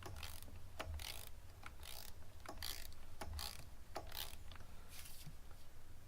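A torque wrench ratchets as it tightens a spark plug on an S550 Ford Mustang, giving a quiet, close series of regular clicking strokes with no talk.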